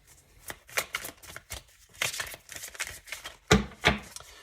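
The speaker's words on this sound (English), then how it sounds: "I'm just going to keep shuffling, and hopefully we can get 2 or 3 more cards" Cards are shuffled by hand in a series of quick riffling, slapping bursts, close up and uneven in rhythm, with no talking.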